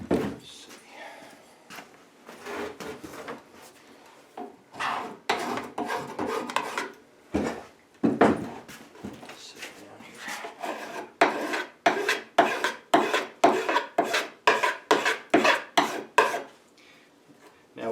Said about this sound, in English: Now what you want to do is just file that to where your fingernail doesn't catch it.